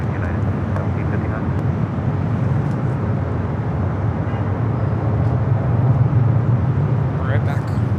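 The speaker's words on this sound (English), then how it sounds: "Next arrival on 25 left is the Cathay Cargo 747-400 freighter coming in from Dallas Fort Worth." A Cathay Cargo Boeing 747-400 freighter arrives on runway 25 left at Los Angeles airport, a loud steady broadband jet roar with low rumble swelling slightly toward the end, heard at a distance with wind noise.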